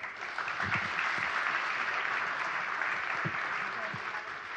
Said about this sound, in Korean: 오늘 세 분께 다시 한번 큰 박수 부탁드립니다